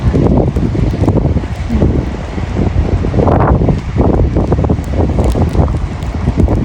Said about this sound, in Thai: ลมด้วยนะคะ ลมหนาวหนาวค่ะ